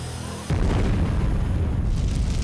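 A cartoon catapult fires with a sudden deep booming thud after a brief quiet lead-in, followed by a loud sustained rumbling roar that fills the rest of the moment.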